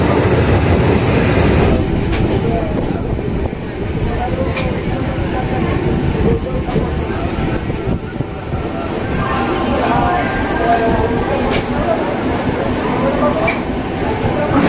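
Loud, steady rumble and rattle inside a moving local train between Howrah and Puri, with the carriage noise running continuously throughout and faint voices mixed into the din.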